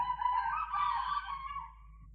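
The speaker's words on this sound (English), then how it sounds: "the cocks, the chickens, the hens are crowing at this minute or at this moment" A rooster crowing at dawn, one drawn-out cock-a-doodle-doo at moderate distance that fades toward the end, heard alone against quiet background hum.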